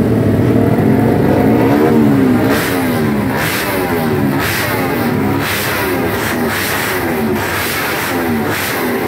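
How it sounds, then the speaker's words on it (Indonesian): Racing motorcycle engine at a circuit ahead of a race final, revving loud and close in repeated rising and falling bursts over a steady idle, continuous with no talk. "Nomor motor 7 ini ada tunggangannya Herman Bas, pembalap dari Sulawesi, yang akan turun di Expert."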